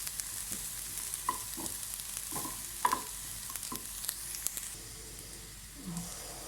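Minced meat kebab mixture for smoky chandan kebabs being stirred and mixed in a pan, with repeated soft scraping strokes and a light sizzle, close and steady, no talking.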